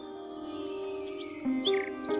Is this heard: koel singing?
yes